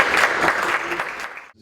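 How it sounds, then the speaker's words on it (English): An audience at a medical alumni association event bursts into a brief round of applause, dense and fairly close, tapering off abruptly near the end. "Please give them a big round of applause."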